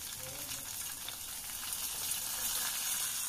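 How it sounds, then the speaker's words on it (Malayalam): Hot fried onion tempering poured into a bitter gourd and mango curry, giving a steady close sizzle and crackle that swells slightly toward the end. "ഇനി കറിയിൽക്ക് ഇത് മുഴുവനായിട്ട് ഒഴിച്ച് കൊടുക്കാം."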